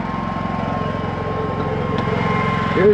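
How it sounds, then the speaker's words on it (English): The onboard generator of a 2023 Forest River FR3 32DSF RV runs with a loud, steady low engine drone and fast pulsing throb, heard close up and continuous. "Here's our generator."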